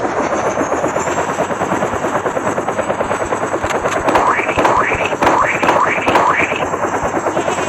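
A helicopter in the Roblox video game makes a loud, continuous rotor chop, a rapid steady beat that stays close for the whole stretch, and a voice talks briefly over it.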